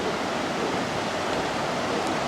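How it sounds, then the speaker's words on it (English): Floodwater rushing along during a great flood in Newmarket, New Hampshire, streaming past a culvert near Main Street; a steady, dense, unbroken roar of moving water, fairly close, with no voices. "And the water's flowing"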